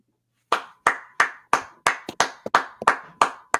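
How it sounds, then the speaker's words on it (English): One person claps hands alone in a quiet room, about a dozen sharp, close, crisp claps in a slightly uneven, steady rhythm after a brief silence. "I am standing and applauding"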